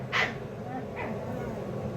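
A dog at a home gate gives two short barks or yips, the first louder and the second fainter, over steady outdoor background noise.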